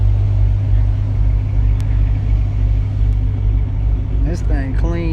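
Low idling rumble of a Mercedes-AMG GT63, a steady deep engine drone close by, with people talking over it near the end.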